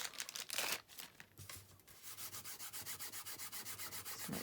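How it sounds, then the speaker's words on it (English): An embossing buddy rubbed over card stock during card making, a soft close brushing scrape that turns into a quick, even run of back-and-forth rubbing strokes. "I might just use my embossing buddy on here."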